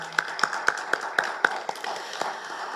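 A church congregation gives a brief, fairly faint round of applause, heard as a short series of evenly spaced claps that fade into low room noise.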